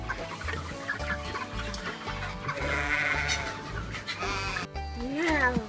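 Sheep bleating on a farm, the calls mixed with clucking chickens and other barnyard noise in a busy, continuous outdoor scene.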